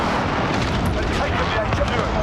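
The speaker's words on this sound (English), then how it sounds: "Enemy cluster strike incoming" Cluster strike explosions in a video game form a dense, continuous rumble of booms and blasts, loud and close throughout.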